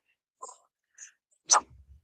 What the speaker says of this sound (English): Oh my gosh, I'm going to sneeze.